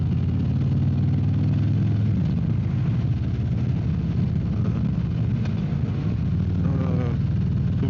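A car drives along a mountain road between the Col du Granier and Lac d'Aiguebelette, its engine a steady low drone heard from inside the cabin, with faint voice-like sounds at times.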